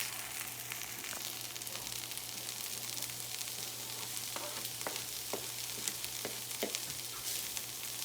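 Chopped steak for a Philly cheesesteak sizzling on high heat, a loud, steady, hissing fry close up, with scattered sharp spatula scrapes and pops.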